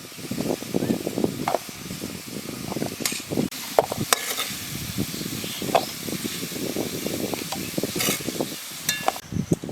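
Potato pieces frying in hot oil in a village kitchen: a continuous low sizzle broken by scraping stirs and a few sharp clicks of the utensil against the pan.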